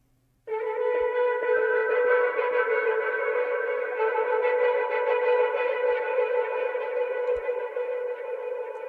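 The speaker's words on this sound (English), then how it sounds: "I ended up reversing the entire thing, adding lots of effects and just trying out different stuff, experimenting with weird effects, and I came up with this texture." Dark R&B sample texture built from a reversed vocal drenched in heavy effects, a sustained, swelling wash with echo, distortion and chorus that starts abruptly and holds loud and steady throughout, no voices speaking.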